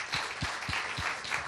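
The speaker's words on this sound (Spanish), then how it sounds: "dedíquenle por favor un fuerte aplauso" Faint, steady applause from a crowd, soft and distant, lasting the whole moment without voices.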